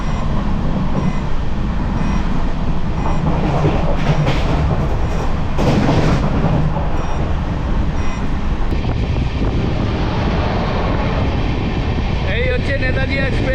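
Tebhaga Express with new LHB coaches running past Begumpur, a loud continuous rumble and rattle of wheels on track heard from aboard, with a faint beeping toward the end.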